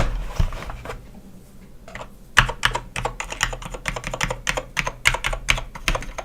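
An old, dirty mechanical keyboard is typed on close up, starting with a few scattered keystrokes and a pause, then a brisk run of clacking key presses.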